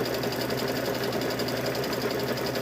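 A sewing machine stitching a quarter-inch seam on a hummingbird and butterfly quilt block whirs steadily and evenly throughout, a close, constant mechanical hum with a fast rhythmic needle pulse.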